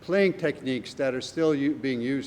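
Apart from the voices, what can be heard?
No everyday noise stands out behind the speech.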